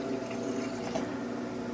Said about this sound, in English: And we'll just pour that right in.